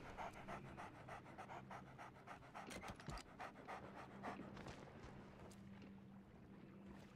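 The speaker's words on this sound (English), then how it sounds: "What a cool dog." A dog panting in the Sea of Thieves pirate game, with quick rhythmic breaths repeating steadily over faint wind and water ambience on a boat, fairly quiet and close.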